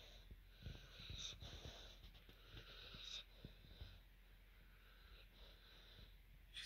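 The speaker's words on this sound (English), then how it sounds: "heavy breathing." Basset hound breathing heavily in its sleep at night, a soft wheezing, snorting rhythm of repeated breaths, close and faint in a quiet room.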